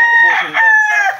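A rooster from Thailand crows once, loud and close, in a short, clear, rising-and-falling call.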